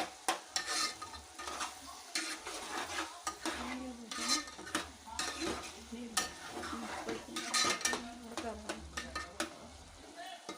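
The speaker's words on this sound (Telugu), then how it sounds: "తగినంత కారం పొడి వేసుకొని కలుపుకోవాలి" A spoon stirs chili powder into a sizzling cucumber and tomato curry in a pan. Repeated close scrapes and clinks of utensil on metal sound over a steady frying hiss.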